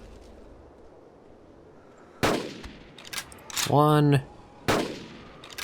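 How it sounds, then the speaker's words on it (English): Gunshots in the video game Carnivores Dinosaur Hunt: a loud, sharp blast, then a second shot overlapped by a rising, tonal roar, and a third crack shortly after, all against quiet outdoor ambience. "Okay, so I gotta use basically 3 shots on you."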